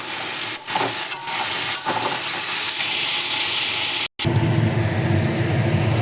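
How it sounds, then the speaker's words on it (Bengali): Potatoes and capsicum fry in a pan for butter paneer, giving a steady broadband sizzle with a few scraping clicks; the texture changes abruptly after a brief cut, becoming louder and fuller. "দেখো আলু আর শিমলা মির্চিটা এরকম লাল লাল করে ভেজে নিলাম"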